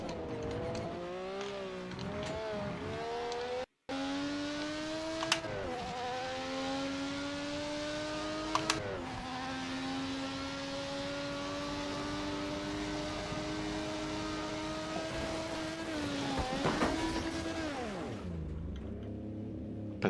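A race car engine in a racing video game revs hard through a long run, its tone climbing and dropping across several gear shifts and holding loud and steady for about twenty seconds, with no voices.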